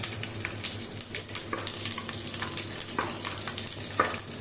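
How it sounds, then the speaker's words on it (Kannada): Mustard seeds crackle and pop in hot oil, sharp irregular snaps over a constant sizzle, close by with no talking. "ಸಾಸಿವೆ ನೋಡಿ ಚಟಪಟ ಅಂತ ಹೇಳ್ತಾ ಉಂಟು"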